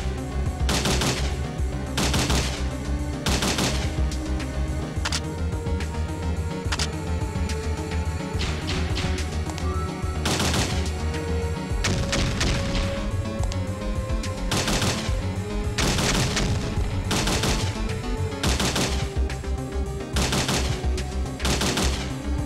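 Repeated gunfire in the PS1 video game Parasite Eve 2: loud, sharp shots in bursts and single blasts, spaced irregularly over a steady game music backdrop.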